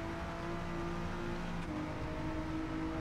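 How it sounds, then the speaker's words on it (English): A Honda NSX engine revs hard at high rpm in Gran Turismo 7 on the Tokyo Expressway, a continuous loud whining drone with shifting pitch and no voices over it. "Let's give it all the revs."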